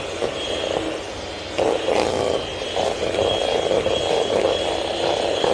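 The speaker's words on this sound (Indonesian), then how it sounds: "Ini kita mixer dulu." An electric mixer whirs steadily through martabak layer cake batter, a continuous close motor drone with slight changes in load and a faint rattle against the bowl.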